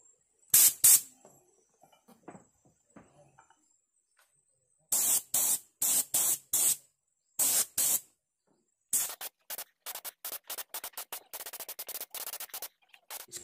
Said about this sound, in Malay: Saya cuma spray pada bagian yang ada semen aja lah.